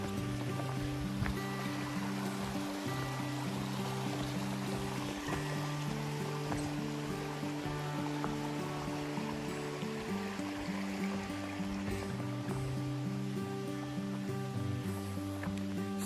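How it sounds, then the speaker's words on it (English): A creek flows beside a hiking trail on the Appalachian Trail, a steady broadband rush of water that continues unbroken under a low mechanical hum with no voices. "And right now I'm hiking by a creek."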